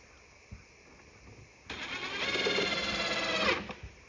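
Power drill driving a box screw into a wooden beehive box, a single close whirring run of about two seconds that rises in pitch and strain, then stops, with faint knocks before and after.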